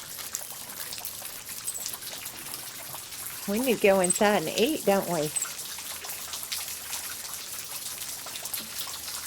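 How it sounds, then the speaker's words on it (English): Rain falls outdoors as a steady fine patter and trickle of drops, continuous in the background while someone speaks briefly in the middle. "What do you think about that rain, Lillian?"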